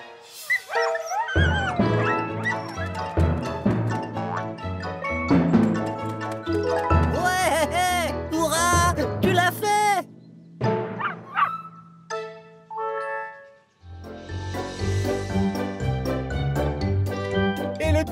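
Small cartoon dog barking and yipping, short bright yaps scattered through a busy, loud animated soundtrack of music and effects, with a brief whimpering tone before the noisy swell near the end.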